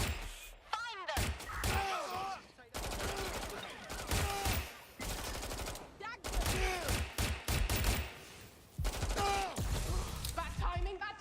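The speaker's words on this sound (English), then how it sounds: "Someone's shooting!" Rapid bursts of video-game gunfire crackle through a tense multiplayer match, loud and repeated in clusters, with voices and game sounds mixed among the shots.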